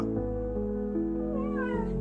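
A rescued street cat meows at close range, one drawn-out rising and falling call filling the moment, loud and clear with no talking over it.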